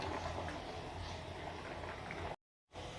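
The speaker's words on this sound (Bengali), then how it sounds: "তেলের মধ্যে দিয়ে দেব গোটা জিরে" Whole cumin seeds sizzling in hot oil for tempering, a steady dense crackling hiss that runs continuously, cut off abruptly by a brief silence before resuming.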